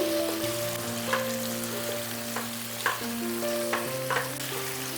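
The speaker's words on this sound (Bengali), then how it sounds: "টমেটো দেওয়ার পরে বেশ ভালো করে কষিয়ে নিতে হবে" Tomatoes sauté in hot oil for a restaurant-style chicken curry, giving a continuous soft sizzle and frying hiss with a few faint stirring scrapes now and then, close and quiet, with no voices.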